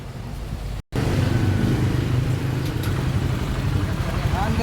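A motorcycle engine that has run out of oil runs steadily and loudly up close after a brief dropout near the start, with a rough mechanical rattle over the hum and a voice talking over it.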